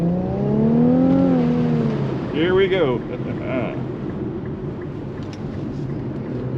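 A 2019 Infiniti Q50 Red Sport 400 RWD pulls away from a green light, its engine note climbing loudly through the revs, then easing off with road and wind noise. A driver speaks briefly.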